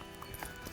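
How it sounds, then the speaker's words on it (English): Hooves of a three-year-old horse clip-clop in quick, close succession, a brief run of hard knocks over a faint background. "This is Big Gus. He's a 3-year-old and he's our staff horse."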